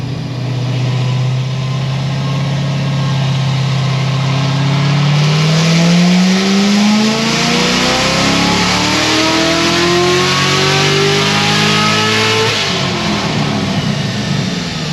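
Chevrolet Corvette C7 Z06 engine revving hard on a dyno run, loud and close, with a long rising sweep of pitch climbing steadily as the engine winds up, then dropping off near the end; no voices.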